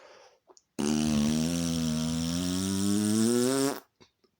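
A voice imitates a dying fart: one long, buzzing, strongly pitched blurt of about three seconds. It holds steady and close, then cuts off, with brief faint noises before and after.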